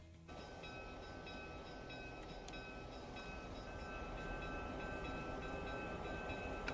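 A train in the transport simulation game Transport Fever 2, a steady rolling rumble with faint metallic tonal squeals and a brief horn-like accent, growing slightly louder over several seconds, no talking.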